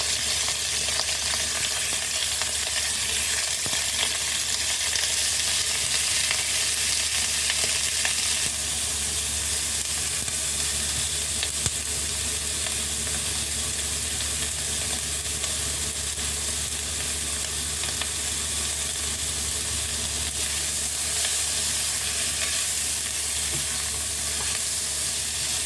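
Beef for afritada fries in a hot, smoking pan, giving an even, loud sizzle that holds for the whole stretch with no pauses and faint stirring beneath.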